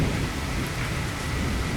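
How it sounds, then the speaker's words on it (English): Steady rain shower beats down around a moving motorcycle, a dense unbroken hiss mixed with low rumble from wind and road, loud and constant with no talking. "back into the rain showers."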